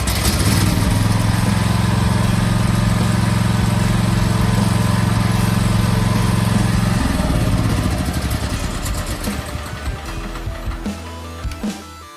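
An old, sun-worn riding lawn mower's small gas engine with a freshly cleaned carburetor, heard up close: a loud, steady mechanical drone for about seven seconds that then roughens, sputters and fades to a stop near the end.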